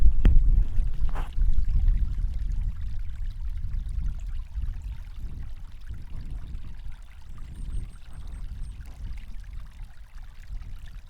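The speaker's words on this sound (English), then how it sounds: "We have just a little bit of a waterfall." A small stream spilling over a little waterfall outdoors, giving a steady low rushing and trickling wash that carries on throughout, with a brief knock near the start.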